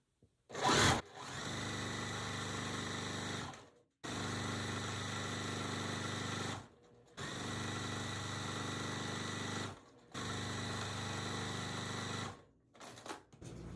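A sewing machine stitches quilt block pieces in four steady runs of a few seconds each, a close, even motor hum with brief pauses between runs, starting with a short louder burst and no talk.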